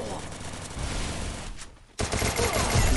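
Rapid video-game gunfire crackles in close bursts during a competitive match, with a brief lull before the shooting resumes loudly under excited player chatter.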